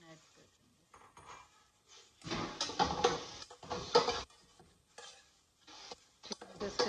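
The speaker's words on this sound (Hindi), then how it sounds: "चिकन को इसके साथ फिर आप फिर फ्राई कर लें।" Chicken pieces frying in a pan for spicy chicken spaghetti, stirred with a utensil in bursts of scraping and clatter over a quiet sizzle, with soft gaps between the bursts.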